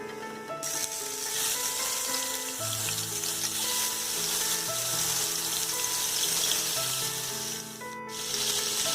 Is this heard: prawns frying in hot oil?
yes